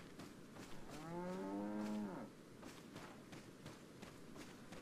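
A single cow moos once, drawn out and slightly wavering, inside the survival horror game Resident Evil 4. It sounds at moderate distance over low, rumbling ambience, with soft footsteps around it.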